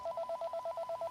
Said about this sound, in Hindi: answer your phone